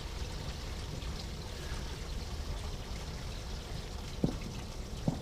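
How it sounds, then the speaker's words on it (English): Water steadily filling an RV black tank during flushing at an RV park, a continuous soft rushing pour heard from close by, with two faint knocks near the end. "I'm going to close the black tank, let it fill up with water"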